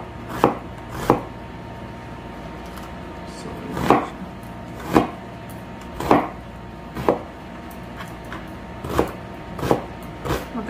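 Knife slicing onion on a board, about a dozen sharp, separate chops at an uneven, unhurried pace, close and clear against a quiet background, with no talk.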